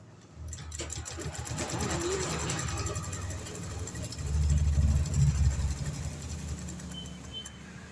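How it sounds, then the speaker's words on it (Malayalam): A sewing machine stitches saree fabric in steady rapid bursts, its motor whirring and needle ticking, growing louder mid-run, with a voice talking over it. "രണ്ട് വശവും തയ്ച്ച ശേഷം പിന്നെ ഇപ്പുറത്തെ ഈ സൈഡും കൂടെ ഒന്നും കൂടെ തയ്ക്കും"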